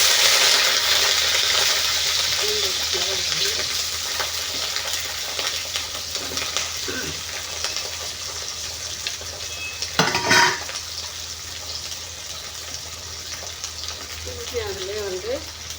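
Garlic fries in a pan with a bright steady sizzle, joined by metal clinks of a spoon against the pan and one louder clatter partway through, close up and without talk.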